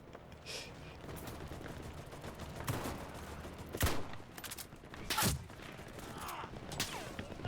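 Gunfire in the World War II shooter game Enlisted: scattered gunshots and short bursts, several sharp reports standing out over a steady background of distant battle noise.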